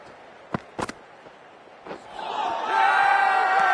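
A few sharp bat and ball knocks, then a swelling crowd roar and fielders' appeal rising and holding loud in Cricket 24 on PS5, with no clear speech.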